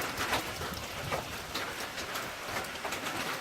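Steady rain falls outside on a breezy farm morning, a soft even hiss of drops pattering on surfaces with no voices.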